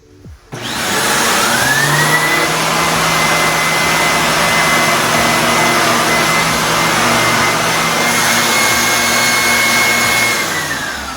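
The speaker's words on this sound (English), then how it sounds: "let's go ahead and turn the vacuum cleaner on" A Bissell CleanView Swivel Rewind Pet upright bagless vacuum cleaner motor starts up and runs steadily with a loud, even whine, then begins to wind down at the end.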